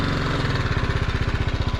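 A motorbike on a forest road between tiger reserves, its engine idling close by with a steady, rapid low putter and even pulses, loud and alone with no talking.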